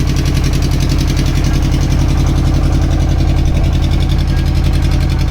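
A boat engine chugs loudly and steadily with a rapid, even pulsing beat on the flooded Ganges, running without pause and without any voices.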